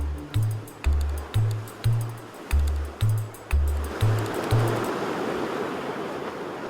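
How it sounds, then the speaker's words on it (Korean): Strong ocean waves surging in on a Galápagos shore, a broad rising wash of surf that swells loudly in the second half beneath a repeating low, rhythmic musical pulse. "바닷물은 순식간에 차오르고 거센 파도까지 몰려오기 시작합니다"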